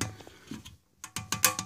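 Plastic wings on a dual flush toilet valve being twisted tight, giving a few sharp close ratcheting clicks, a quiet pause, then a quick run of crisp clicks.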